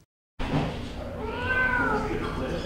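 A cat at a cat rescue shelter in a flooded city gives a drawn-out meow, heard close after a short silence and over steady room noise.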